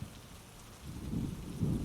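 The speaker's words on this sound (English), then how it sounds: "it's kind of a spooky rainy night" Steady rain falls on a dark, spooky night with a low rumble building beneath it, a dense outdoor patter heard alone.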